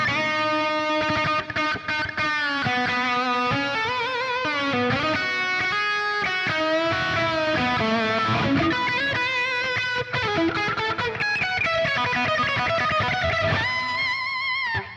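A Music Man electric guitar plays a distorted lead line, sustained overdriven notes and bends ringing continuously and loud with no talking.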